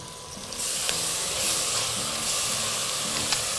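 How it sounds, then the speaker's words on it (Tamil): Freshly ground paste of raw shallots and garlic sautéing in a pan for kootanchoru, a loud continuous hiss and sizzle that swells as the paste hits the oil, with faint stirring taps close by. "இது கொஞ்சம் வதங்க டைம் கொடுக்கணும்"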